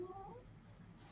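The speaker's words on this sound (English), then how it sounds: "There's a real kitten." A real kitten gives a faint, short, high meow near the start, quiet and somewhat distant against a low background hum.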